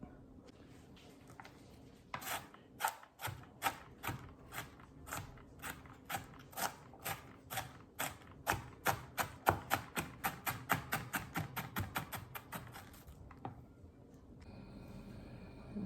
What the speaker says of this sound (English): I'm gonna go ahead and chop them up.